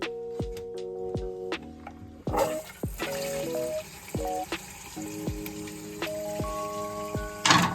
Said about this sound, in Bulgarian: И сега пускаме водата да се пълни.